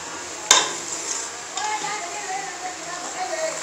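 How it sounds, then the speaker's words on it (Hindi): Spices roast and sizzle in a hot pan, a soft steady frying hiss with a sharp scrape of a spoon early on and light stirring throughout. "मसालों को 2 मिनट के लिए अच्छे से भूनेंगे"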